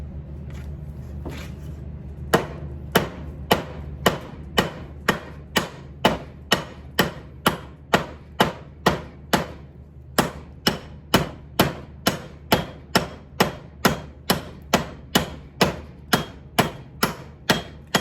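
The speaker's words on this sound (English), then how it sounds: "I'm doing light chopping here." Steady, evenly spaced chopping blows of an Arkansas toothpick knife into wood, each a sharp thwack, continuing in a regular rhythm after a short pause.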